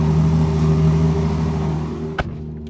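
A Ferrari engine rumbles and revs steadily up close, a dense, throaty drone that eases off near the end. A sharp click or thump follows in the quieter tail.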